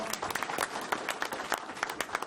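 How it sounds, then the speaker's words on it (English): Crowd applause at a radio personalities' evening event, with sharp individual claps standing out rhythmically over a steady wash of clapping, fairly close and sustained. "I would like to suggest a round of applause for this incredible individual here."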